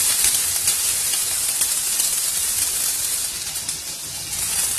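Steady hiss and sizzle of carrots and potatoes sautéing in hot oil in a pan, close and continuous, with no talking.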